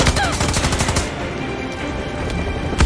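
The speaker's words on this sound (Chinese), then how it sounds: "就拿上我们这把轻机枪，" Light machine gun fire in Far Cry 6, a rapid sustained burst of loud shots for about a second, then continuing battle din with another shot near the end.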